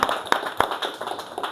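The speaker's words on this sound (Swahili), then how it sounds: "Makofi." A church congregation claps during a worship service, with several sharp, loud claps standing out over a denser, scattered patter of hands through the short stretch.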